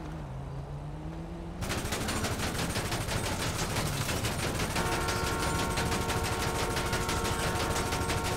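Rapid gunfire in GTA 5, a sustained, dense burst of loud automatic shots that begins abruptly and continues steadily to the end, close and with no talking.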